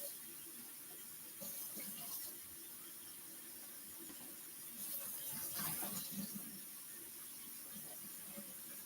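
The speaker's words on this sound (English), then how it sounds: "Rinse out all the soap in the sink because there's a lot." Water runs from a faucet into a kitchen sink to rinse out soap, a soft steady splash and hiss that swells a little in two spots, close by with no talking.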